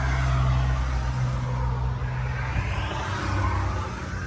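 A used car on a dealer's lot idles steadily with its engine running, giving a close, continuous low hum and rumble with no talk.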